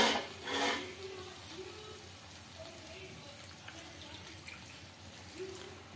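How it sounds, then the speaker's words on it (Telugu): Water splashes and trickles into a pot of drumstick masala gravy at the start, then fades to faint kitchen clatter and low background hum. "వాటర్ అయితే వేసుకుంటున్నానండి."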